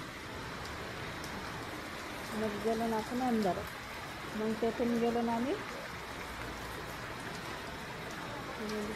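Rain patters steadily in the background at Shegaon while someone speaks over it in two short stretches.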